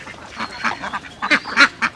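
Ducks quacking while being fed, their food mixed with Lysovit antibiotic water as a treatment for lime-like droppings. A rapid string of loud, close, nasal quacks overlaps in an uneven series.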